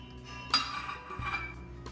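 Spoon clinking against a metal pan while a spoonful of coconut oil goes in for pineapple gojju: two faint, bright metallic taps about half a second apart, with no talking.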